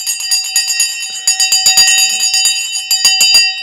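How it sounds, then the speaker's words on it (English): A rapid electric bell rings continuously on the New York Stock Exchange floor, loud and metallic, with a rattling trill that briefly falters and resumes. "Sensei Crypto rings the bell on the New York Stock Exchange"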